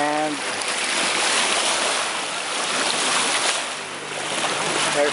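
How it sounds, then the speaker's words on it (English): A sailboat underway on open sea gives a steady, broad wash of waves and wind rushing past the hull, loud and continuous throughout with gentle swells in level. "here we are sailing on the Lady Baba."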